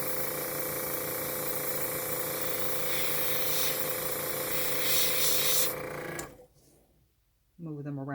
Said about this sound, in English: So you can see I'm just keeping my airbrush on one side.